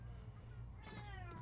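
A cat meows in The Sims 3 game, a short high call rising from a steady low game hum and background music, with no talk over it.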